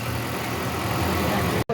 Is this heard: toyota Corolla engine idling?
yes